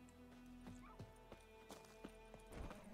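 Horse hooves clip-clop at a steady walking pace, fairly close, in the video game The Witcher 3, with a horse's whinny and faint background ambience.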